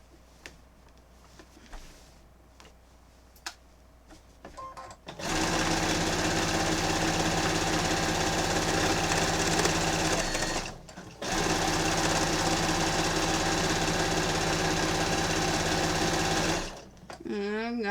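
Domestic sewing machine stitching through a quilt, running in two loud, steady bursts of rapid mechanical whirring separated by a brief pause, preceded by quieter handling clicks and fabric rustle.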